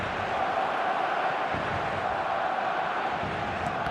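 Stadium crowd roar in an eFootball match: a steady, dense wash of massed voices and chanting that holds at an even loud level throughout, with no single voice standing out.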